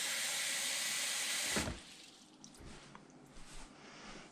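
Water pours steadily into an Instant Pot for chili, a loud continuous splashing stream that cuts off abruptly, followed by quieter trickles and small drips.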